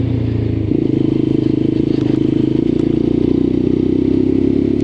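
A red Lexmoto LXR motorcycle's engine pulls away on a road ride test, a loud, close, steady buzzing drone that rises slightly in pitch after a moment, with no talk.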